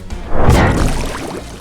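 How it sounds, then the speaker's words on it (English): A water attack spell cast in the audio game Arcane Duels, a short splashing whoosh that swells with a thud and trails off over about a second, loud and alone. "we just need to press 1 to shoot our water attack back"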